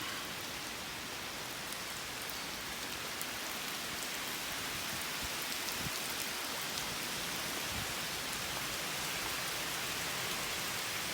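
Steady rain falling outdoors under a tree, a dense continuous hiss of drops spattering on surfaces close by, with no talk over it.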